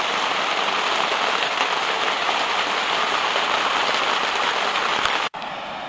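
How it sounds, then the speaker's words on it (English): Heavy rain pours steadily onto a shelter at a gold-mining camp in southwest Oregon, a dense unbroken hiss that stays loud throughout, with one brief dropout near the end. "it is raining like hell"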